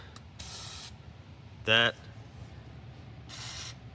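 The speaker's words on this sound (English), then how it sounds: "you're gonna want to PB blast" A single short burst of PB Blaster penetrating oil sprayed onto front suspension bushings and bolts of a 2003 Subaru Impreza WRX, with fainter hissy sprays before and after under light talk.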